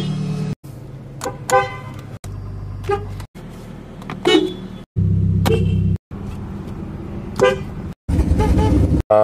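A 1998 Ford Mustang's car horn honks in a series of short and longer blasts separated by gaps, loud and close, with the engine idling between toots.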